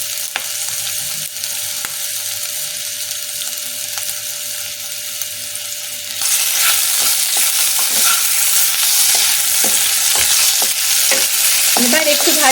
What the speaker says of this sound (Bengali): এবার একটু ভাজতে থাকি।